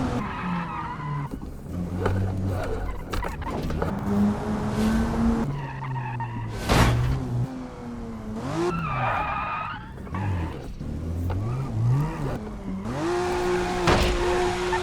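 Tires squeal and skid repeatedly as a car slides around in the BeamNG.drive driving game, with shifting engine whine, sharp impact thumps and sustained screeching across the stretch.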